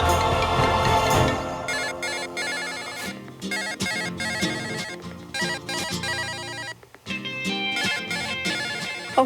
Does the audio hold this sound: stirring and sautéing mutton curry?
no